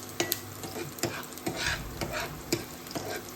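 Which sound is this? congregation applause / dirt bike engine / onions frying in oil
onions frying in oil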